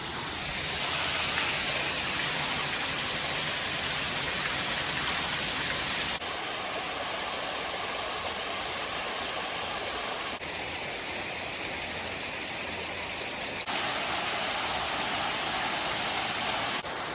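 A waterfall rushes in a steady, loud, broadband roar that continues unbroken throughout, shifting slightly in tone between sections as if heard from different spots nearby, with no talking.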